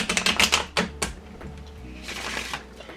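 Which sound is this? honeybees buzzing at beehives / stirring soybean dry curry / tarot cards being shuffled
tarot cards being shuffled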